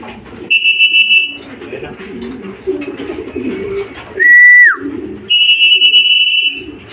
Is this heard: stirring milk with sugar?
no